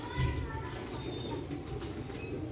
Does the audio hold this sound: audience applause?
no